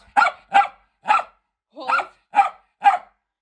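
A dog barks on the speak command during obedience training, giving six loud, close, separate barks at a steady pace with short pauses between them and no talking over them.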